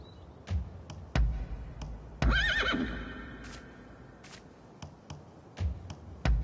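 Horse whinnying in the Rise of the Ronin video game, one clear rising neigh in the middle, surrounded by scattered hoof clops and taps on a quiet background.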